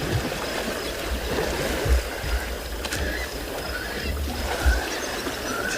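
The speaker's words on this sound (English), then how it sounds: "Just going to be quiet for a moment, Lai, to listen to the splashing." An elephant swims in water on a sunset safari. Continuous close splashing and sloshing comes with irregular low thumps, and no talk is heard.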